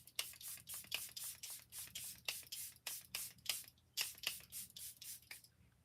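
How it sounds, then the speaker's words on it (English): Quick pumps of a makeup setting spray bottle hiss out in a rapid rhythmic run, about twenty short bursts close up, with a brief pause midway. "let me put the finishing spray on it"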